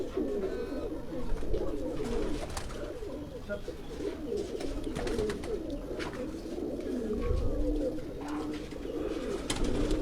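Chap pigeons, a Punjabi breed, coo in repeated low throaty rolls from several birds nearby, with occasional faint chirps and a steady murmur of background noise.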